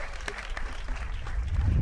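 An audience at a comedy talent show breaks into applause, a brief burst of clapping with a low rumble building toward the end.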